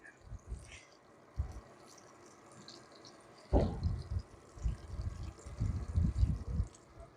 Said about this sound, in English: Since the potting mix was just a little dry, I'm going to deep water pretty thoroughly